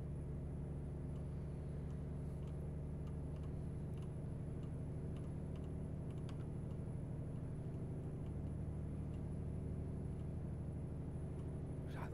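Heavy truck engine in the American Truck Simulator video game, a steady low droning rumble that holds at an even level throughout, with no talking over it.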